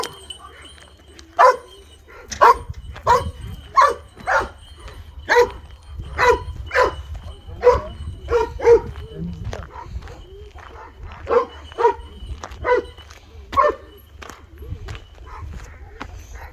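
A dog barks in a steady series of sharp, fairly close barks, roughly one every second, with muffled thumps and movement in between.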